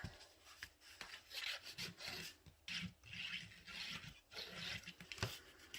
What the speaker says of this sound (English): then I will use my bone folder to kind of burnish more on that fold